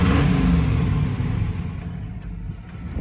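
A 1996 Chevrolet Impala SS V8 revs through a one-chamber Flowmaster exhaust with a possible exhaust leak, a loud deep rev at the start that fades into a lower rumbling idle.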